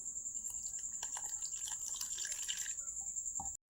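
A little water trickles and drips into a bowl of flour, cornflour and salt, a soft, close, continuous splashing that stops abruptly just before the end, quiet and without voices.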